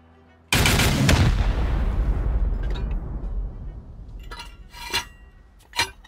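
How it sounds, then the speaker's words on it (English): Rockets fired at a base during a raid in a survival video game land with a sudden loud blast at about half a second, then a long rumbling decay. Sharper impacts and crackles follow near the end. "Let's send rockets here."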